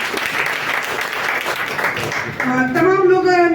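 Audience applause breaks out at a business seminar, a dense wash of clapping from a large crowd that holds steady, then gives way near the end to amplified music or tonal sounds.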